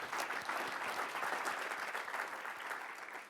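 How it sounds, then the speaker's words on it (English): Attendees at a school board meeting give a round of applause, sustained crowd clapping with distinct individual claps at moderate volume, continuous and fading slightly toward the end. "Give them a round of applause."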